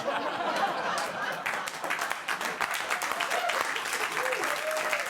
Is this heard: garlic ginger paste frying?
no